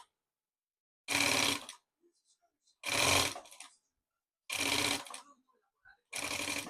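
A sewing machine stitches fabric binding onto clear vinyl for a maternity organizer pouch, running in four loud, close bursts of rapid stitching separated by short silences and faint handling sounds.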